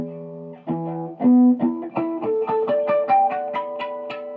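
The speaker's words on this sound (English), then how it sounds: "But when I use my back pickup, hey, throw in a little distortion." Electric guitar on the bridge pickup with light distortion, a run of picked notes climbing in pitch with bright ringing overtones, each attack sharp and close, played alone without talk.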